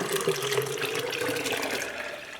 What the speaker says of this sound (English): So I'm going to pour this into this beautiful juice pitcher I have here.